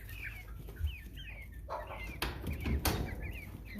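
American Bresse pullets, about five weeks old, cluck and squawk in short bursts while being picked up and handled by feel, with some wing flapping and handling noise nearby.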